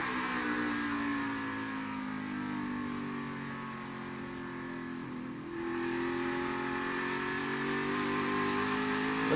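A NASCAR Cup Series stock car engine heard onboard at New Hampshire, a loud, steady V8 drone that eases down as the car rolls through a corner, then picks back up on exit.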